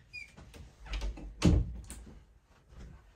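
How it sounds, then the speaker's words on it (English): A door is pushed shut in a room, giving one dull thud after some brief shuffling and handling noises, followed by quiet movement. "Let me close the door real quick."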